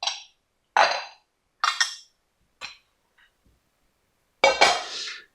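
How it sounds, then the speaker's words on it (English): A metal crepe pan is picked up and set down in a home kitchen, giving several separate clinks and clanks spaced apart, close and fairly loud, with a longer ringing clatter near the end and no talk. "So I got my crepe pan."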